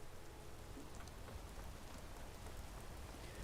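Steady rain in the Skyrim video game, falling over the city of Markarth, a soft, even hiss of drops that continues unchanged and fairly faint throughout.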